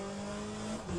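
A race car drifts in the Le Mans Ultimate racing video game, its engine holding a steady, faint tonal whine with a slight pitch shift near the end over one brief second.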